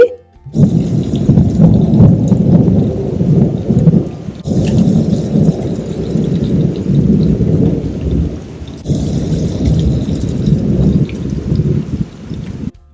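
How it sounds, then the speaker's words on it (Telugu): Heavy rain pours down in a storm while thunder rumbles, a loud, dense, continuous wash of low rumbling and rainfall that barely lets up for the whole stretch. "ఈ రోజు అయితే మాత్రం మాకు ఫుల్గా వర్షం పడుతూనే ఉంది"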